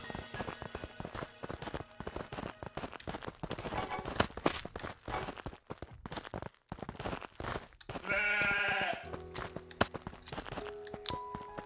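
A sheep in the video game Craftopia bleats once, loud and close, amid a steady run of clip-clopping footsteps and other game sounds, with no talk.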